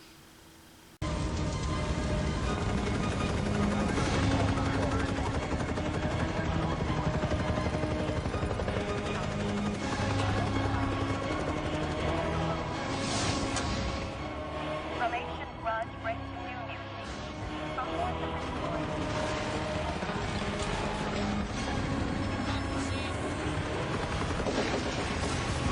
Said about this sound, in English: A helicopter hovers between the Capulet and Montagu tower blocks